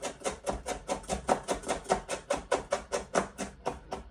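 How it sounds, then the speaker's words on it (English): Knife chopping fresh parsley on a cutting board with a rocking motion, a rapid, even run of crisp close taps, roughly four per second, with nothing else audible. "my top tip for chopping up parsley is just squeeze it all nice and tight"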